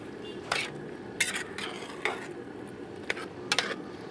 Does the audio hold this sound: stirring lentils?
yes